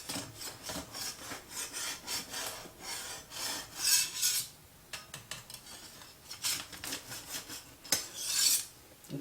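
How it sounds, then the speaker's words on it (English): A knife slicing through a snickerdoodle cake layer guided by a cake collar: repeated soft rasping, sawing strokes with gentle scraping bursts, close and quiet, no voices. "we are ready to slice open and assemble our Snickerdoodle cake"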